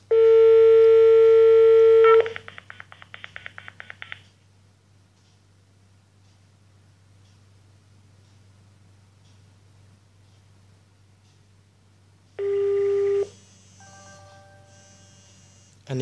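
An NEC SL1000 office phone speed-dials a mobile number from a one-touch key: a loud steady tone, then a quick run of dialing beeps, a long quiet stretch, then another tone and short beeps resuming.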